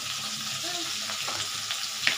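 Panch phoron spices go into hot oil in a pan with ginger paste, making a loud, steady sizzle with a few sharp crackles and light scraping near the end.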